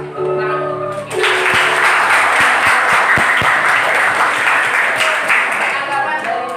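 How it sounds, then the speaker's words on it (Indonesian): Classmates in a high school history classroom break into loud applause for a fellow student, a dense burst of clapping that starts abruptly after a second and fills the rest of the clip, with a few sharp louder claps standing out. "Tepuk tangan untuk teman kita."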